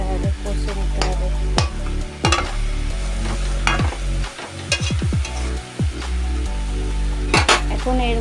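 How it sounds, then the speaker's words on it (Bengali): Dry spices and garlic stirred in a hot pan with no oil for a meat curry, giving a steady scraping and rattling of a utensil against the metal pan with clinks and brief pauses. "শুকনো মশলাটাকে তেল ছাড়া কষে নেবো ভালো করে"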